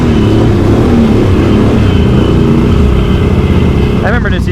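Can-Am Outlander 850 XMR ATV fitted with an MBRP performance exhaust, idling in four-wheel drive through a nasty mud hole, a loud, close, steady low engine rumble that holds throughout.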